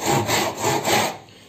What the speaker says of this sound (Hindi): हम लोग इसको आरी की मदद से नीचे तक लेके जाएंगे